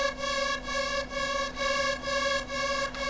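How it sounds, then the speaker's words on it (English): Synth pad sustains soft chords for a big room track, the tones held steadily with a gentle rhythmic pulsing swell about every half second, quiet and alone. "out of my melody, I made some chords. It sounds like this. It's actually a pad."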